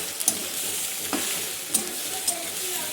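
Pasta coated in sauce stirred and fried in a pan, a soft steady sizzle broken by a few sharp scrapes of the spoon, close and fairly quiet with no talking.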